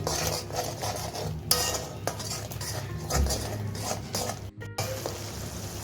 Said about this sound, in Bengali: এখন আমি পেঁয়াজের সঙ্গে আদা রসুন পেস্টটা দেড় থেকে দু মিনিট আরও কষিয়ে নিচ্ছি